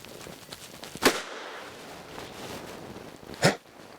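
Two sharp gunshots ring out while hunting partridge, one near the start and one later, each a loud crack with a brief tail against quiet woodland and no talk.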